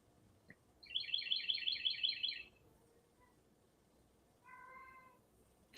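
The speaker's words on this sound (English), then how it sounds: "I hear my cat crying." A pet cat meows from close by in a quick burst of repeated cries, then gives a softer, shorter meow after a pause, with a quiet background and no talking.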